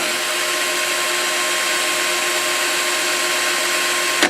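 A drill spins the shaft of a Singer 201-2 potted sewing machine motor at high speed after Kroil lubrication, giving a loud, steady whirring drone with constant tones that cuts off abruptly at the end.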